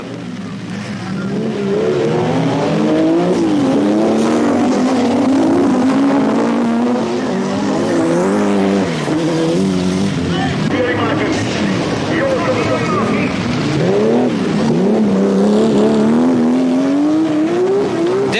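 Rallycross race cars from the 1986 European Championship, led by a powerful Porsche, roar continuously with rising and falling engine notes throughout, loud and sustained, while a commentator talks over the racing.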